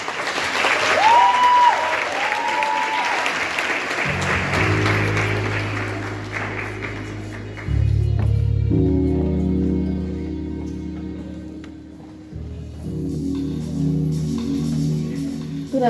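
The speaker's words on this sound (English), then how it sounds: "may you join me and clap hands for Advocate Lihle" Audience of mostly women at a leadership and business mentorship event applauding Advocate Lihle Mapipa, a loud burst of clapping over the first few seconds that gives way to music, with brief swells continuing underneath.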